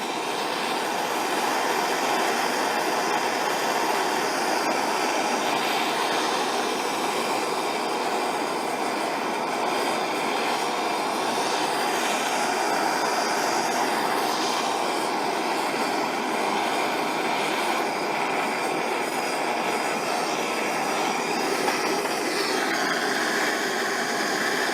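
A torch flame roars in a constant broadband hiss as it melts gold powder in a ceramic crucible, loud and close with no voices.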